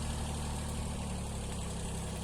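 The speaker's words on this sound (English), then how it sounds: "here I'm going with the tractor between all the little cork oaks" A tractor engine runs steadily at a constant, droning pitch while clearing overgrown broom among young cork oaks with a cultivator, close and continuous with no talk.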